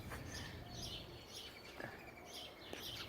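Birds at a backyard feeding spot and bird bath chirp in short, faint bursts, scattered and somewhat distant against quiet outdoor background.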